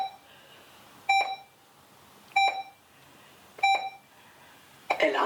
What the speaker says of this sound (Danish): Der blev trykket på nødkald.